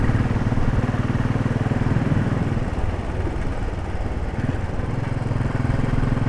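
A Royal Enfield Desert Storm motorcycle engine idles nearby with a steady, loud, thumping low chug, continuous and unbroken, with no talk over it.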